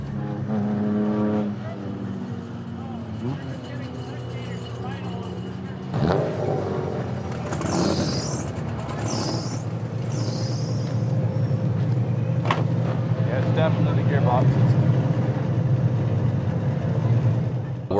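A race car with a damaged gearbox runs under the steady drone of its engine, with a rough mechanical whine and clunks, while people talk over it.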